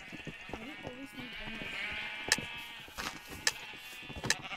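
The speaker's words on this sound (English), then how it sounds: "I need one more sheep." Sheep bleat several times in a Minecraft game, mixed with sharp game clicks and thumps, while a player talks over the sounds.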